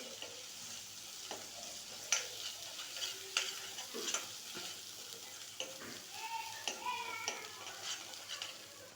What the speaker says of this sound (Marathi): इथे आलं लसूण पेस्ट हळद आणि मसाला टाकून घेतला आहे